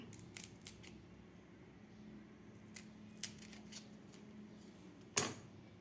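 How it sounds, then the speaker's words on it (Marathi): Green chili peppers being cut for bhaji, a few faint snips and knife clicks over a steady low kitchen hum, with one sharper, louder cut near the end. "आणखीन एक मिरची कापून घेऊया आपण।"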